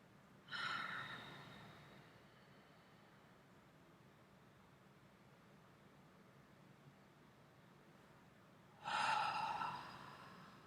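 Two long, slow deep breaths taken during a guided relaxation exercise, each a broad soft rush of air about two seconds long, with a quiet steady hush between them and no talking.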